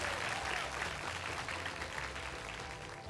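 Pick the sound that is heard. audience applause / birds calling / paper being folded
audience applause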